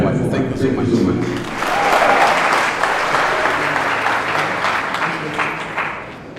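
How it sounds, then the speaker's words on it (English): Audience applause at a live celebration event, a steady wash of many hands clapping that swells around the middle and tapers off near the end, with faint voices mixed in. "Round of applause."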